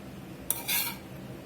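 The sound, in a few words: slicing French onion style meatloaf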